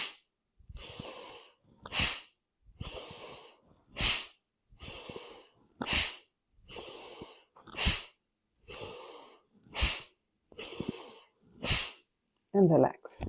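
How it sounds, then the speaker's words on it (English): Forceful rhythmic breaths during a yoga detox breathing exercise, about a dozen sharp nasal exhales at a steady pace roughly one per second, close and loud, with softer inhales between. "Fill the lungs, empty the lungs."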